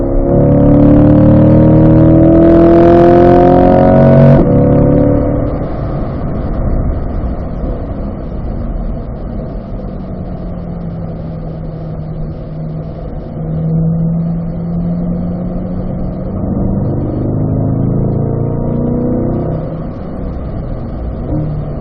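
A car driving a lap of a cone course: engine drone with a gear change and a rising, falling pitch sweep as it lines up for a drop, loud and close throughout.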